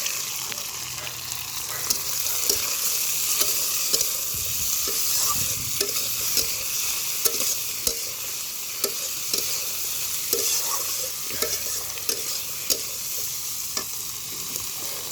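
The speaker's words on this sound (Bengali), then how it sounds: "মশলাটা ভাজা ভাজা হয়ে আসলে মাংসটা দিয়ে দেবো" Onion, tomato and spice paste frying in oil in a wok while being stirred, a steady close sizzle with repeated scraping strokes of the spoon throughout.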